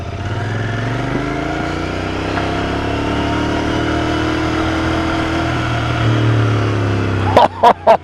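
A 2019 Royal Enfield Interceptor 650 motorcycle exhaust rumbles steadily at a low, even pitch, close and continuous, ending with a few sharp blips near the end.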